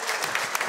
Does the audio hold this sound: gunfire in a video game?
no